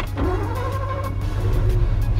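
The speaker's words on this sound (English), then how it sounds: "That burbly Mercedes V8 in the back." A classic Mercedes V8 in a cheap wrecked exotic supercar rumbles close by with a steady, low, burbling idle that holds for about two seconds with no talk over it.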